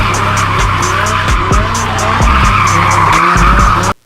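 A BMW V10 sedan skids with loud, sustained tire squeal and engine roar, very close, the screeching rising and wavering over several seconds before cutting off abruptly.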